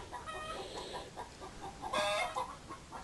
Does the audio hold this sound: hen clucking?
yes